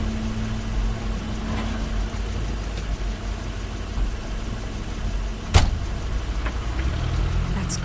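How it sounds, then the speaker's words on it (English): Crane's car in The Wolf Among Us, a medium engine idling steadily nearby with a low rumble, one sharp thump partway through and the motor running on afterward. "That's Crane's car."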